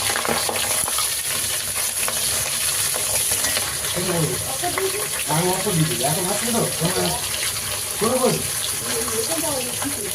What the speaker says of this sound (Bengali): প্রচুর ফাটছে, বড় মাছের মাথা তো, তেল চর্বি আছে, তেলের মধ্যে পড়ে এরকম ফাটছে